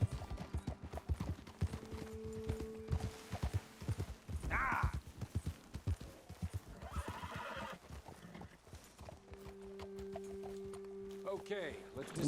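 Horses in the Red Dead Redemption 2 video game clatter along with steady hoofbeats and loud whinnies, joined by sustained musical tones and occasional voices.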